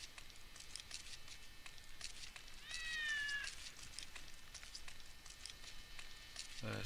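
In the video game Postal 2, a cat gives a short, fairly faint meow midway through, over a low, steady ambient bed with scattered soft clicks.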